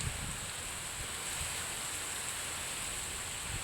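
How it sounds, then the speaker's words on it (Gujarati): Heavy rain pours in Dahod, a dense, even hiss of falling water that holds steady and fairly faint throughout with no gaps and no voices. "ધોધમાર વરસાદ વરસ્યો"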